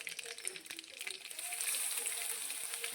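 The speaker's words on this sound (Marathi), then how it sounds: "आता याला आपल्याला थोडंसं तेलामध्ये तळसून घ्यायचं आहे" Crushed ginger and garlic fry in hot oil with mustard seeds and cumin, a close, soft sizzle that swells into a steady, hissing crackle partway through.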